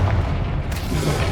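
A Confringo spell explodes in Hogwarts Legacy combat, a dense, loud, booming burst with rumbling low end that fills the whole moment, set in thick battle noise.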